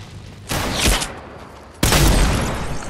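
Two loud, close Desert Eagle pistol shots in the video game Fortnite, each a heavy booming blast that trails into a long, rumbling decay.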